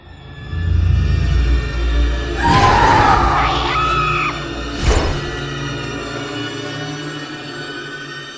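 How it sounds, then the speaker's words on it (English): A woman's scream in the vampire adventure video game A Vampire Story, a loud, sustained high-pitched shriek with wavering tones, followed by a sharp cry over a steady droning game background. "We heard a scream!"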